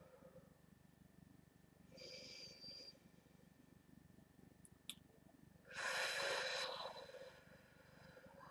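Slow, deliberate breaths taken during a guided breathing exercise, heard as a soft inhale and a longer, louder airy exhale with a brief click between them, close to the microphone in an otherwise quiet room.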